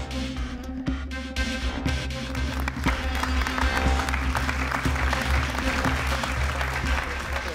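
A cinema audience applauds at the end of a documentary film about Ethiopian immigration in Italy, giving steady, dense clapping that holds for the whole stretch with a low murmur underneath.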